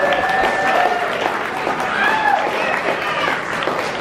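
Keynote audience at Play NYC 2022 applauding themselves, a dense roomful of clapping with whoops and cheers mixed in, loud and sustained.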